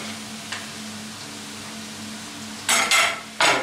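Onions and garlic drop into hot oil in a pan for a meat-and-cabbage kapuska. A faint steady hum gives way near the end to a few sharp, loud bursts of sizzling.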